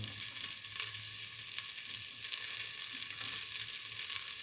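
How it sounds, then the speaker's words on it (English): Shallots frying in a pan give a steady, close hiss of sizzling oil that holds fairly even throughout, with no voices over it. "let the shallots fry for some time"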